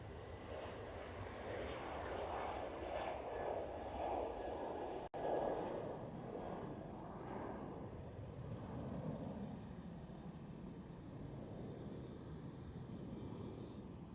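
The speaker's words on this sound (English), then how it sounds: "Transavia 737." A Transavia Boeing 737 airliner flies past at Schiphol Airport in Amsterdam, its engines a steady broadband roar from a moderate distance that holds throughout, with a brief click near the middle.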